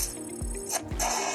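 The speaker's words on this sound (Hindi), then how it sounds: "ये डिजिटल काउंटिंग का साउंड इफेक्ट।" Quick digital counting sound effect from an editing tool, a brief electronic ticking and whooshing burst that repeats in short pulses, loud and alone with no talk.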